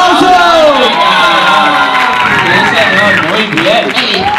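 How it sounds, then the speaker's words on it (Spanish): A crowd at a dulzaina gathering in Colindres applauds and cheers loudly, dense clapping mixed with shouts and whoops throughout, with voices calling out over it. "¡Otro aplauso!"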